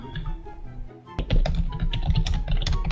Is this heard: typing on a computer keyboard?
yes